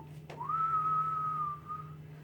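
A single person whistles one clear note: a quick upward slide into a steady pitch held for about a second and a half, close and alone over a low hum.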